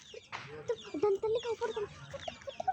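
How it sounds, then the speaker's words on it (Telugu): Chicks peeping close by, a quick string of small clucking and cheeping calls over about three seconds, soft and somewhat irregular. "మా చెల్లి కోడి పిల్లలు అంటే చూడండి"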